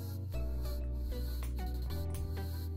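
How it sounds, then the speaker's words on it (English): Perfume spritzed from a sample bottle onto a hand, a couple of short airy spray bursts over steady low background hum at close range. "let's spray it on you because I have perfume on your hand"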